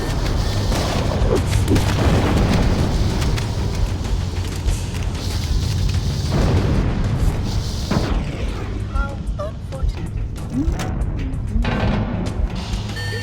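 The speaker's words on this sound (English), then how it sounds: "Use explosives on the other 3 reactors. That should be enough to trigger a wildcat explosion of the engines." Reactor explosions in Halo: Combat Evolved, a sustained roar of booming blasts and rumbling detonations that stays loud throughout, with bursts swelling and fading and voices talking over them.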